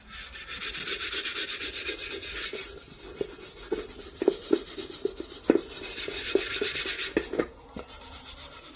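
Vigorous scrubbing of a metal pot with a scouring pad, strokes rasping steadily and close by, with scattered knocks and clinks of the pot being worked over; no voices.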